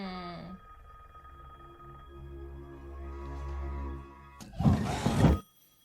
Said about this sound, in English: he hears ringing